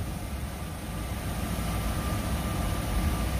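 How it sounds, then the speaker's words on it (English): A 2005 Ford Ranger with a 3.0 liter V6 engine running, a steady low rumble with even droning noise, close and constant without revving. "Engine sounds very good."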